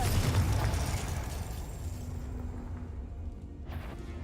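A Confringo blasting spell detonating in Hogwarts Legacy: a low, rumbling boom that fades slowly, followed by a faint swish near the end.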